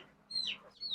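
Chicks peep in high, rising chirps, two clear calls close by against quiet rural background.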